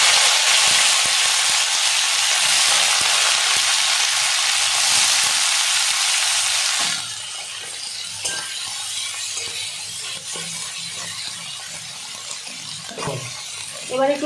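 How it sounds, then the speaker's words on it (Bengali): Chopped onion and green chili fry in oil in a pan with a strong, steady sizzle. The sizzle drops to a quieter crackle about halfway through, with some stirring and clinking near the end. "এবারে পেঁয়াজ লঙ্কাটা একটু ভেজে নেব।"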